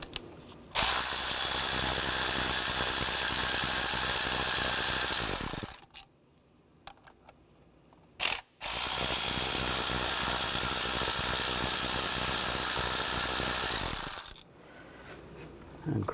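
A power driver with a T30 socket backs two screws out of the engine cover on a 2011–2015 Chevy Cruze, in two long, loud, steady whirring runs split by a short pause, with no talk over them.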